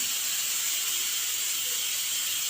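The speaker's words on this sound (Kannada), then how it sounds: "ಕರಿಬೇವು ಹಾಕ್ತಾಯಿದ್ದೀನಿ" Curry leaves drop into hot oil alongside onion, cumin and green chili, giving a steady, bright hiss of sizzling that holds evenly throughout at moderate volume, with no voices.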